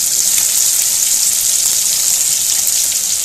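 Fish pieces deep-frying in hot oil for a fish curry, a loud, steady, dense sizzle and crackle that fills the whole stretch without a break, close up and alone.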